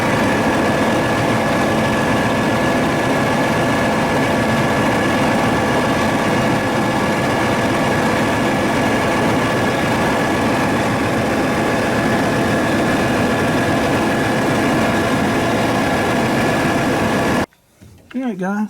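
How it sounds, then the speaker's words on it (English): A Volvo VNL 780 truck engine idles while building air after a front axle air bag blew out, a loud steady low rumble with a constant whine, ending abruptly near the close as a voice speaks. "I'm gonna crank it up and let it build air back up"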